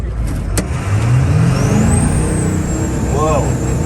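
An engine revving hard in low gear on a vehicle fitted with a budget knock-off gearbox part. It gives a loud, steady close drone that climbs in pitch, and a person talks over it.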